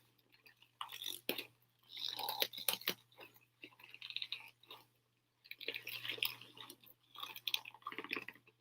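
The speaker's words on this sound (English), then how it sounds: "If anybody just likes handbag sounds," A handbag is handled up close, giving soft crinkling, tapping and rustling bursts separated by quiet pauses, faint and intimate.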